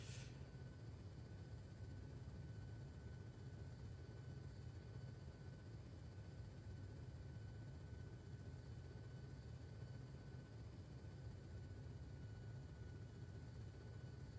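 A helicopter flies in Arma 3 (S.O.G. Prairie Fire), a steady, loud low rotor and engine drone with a faint high whine, holding evenly throughout with no voices.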